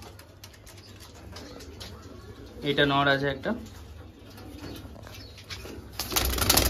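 A white male Madras pigeon in a loft gives a brief, rippling coo in the middle, heard close, while someone talks before and after.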